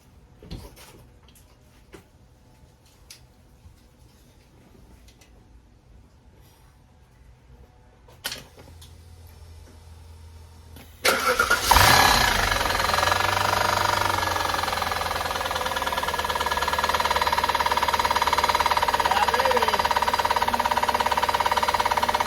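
An Audi S8 engine with its serpentine belt removed, first quiet ticking and clicking, then cranking and starting into a loud, steady idle that continues to the end.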